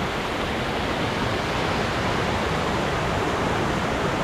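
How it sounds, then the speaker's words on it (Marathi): Rain falling steadily during a monsoon trek near Tahuli Peak, a dense, even wash of hiss with no breaks, loud and close throughout. "पाऊस पण सुरू झाला."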